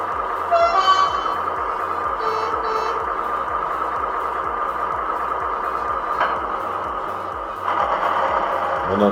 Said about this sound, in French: On entend les vitesses qui craquent.